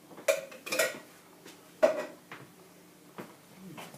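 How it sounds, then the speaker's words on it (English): Utensil clinking against a pot while food with a whole tin of ingredients is stirred in, a few sharp metallic taps and scrapes spaced irregularly, fairly quiet with low room noise. "Just gently stir it through so it combines."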